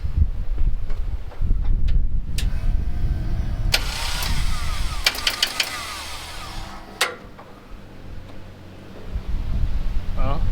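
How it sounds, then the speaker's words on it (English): A derby car's starter cranks in short bursts and fails to engage, with sharp mechanical clicks and whirs between stretches of engine noise, while people talk nearby. "starter don't look to be working, engaging"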